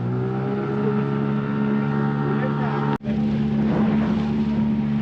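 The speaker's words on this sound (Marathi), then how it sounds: "मंदार तिकडे मागे बोट चालवतो" Steady drone of a boat engine at sea during a deep sea fishing tournament off India, running continuously up close with one abrupt brief dropout partway through.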